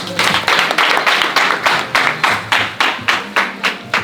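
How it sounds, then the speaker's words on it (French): A crowd at a French charity event for a smile-giving project claps in slow, even unison, roughly three loud, close beats per second that continue steadily throughout. "je demande à ce que vous les applaudissiez"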